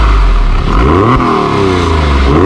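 A Porsche 911 of the 996 generation revs loudly up close through its exhaust, the engine pitch rising and falling in sweeping climbs before settling back, with no voices over it.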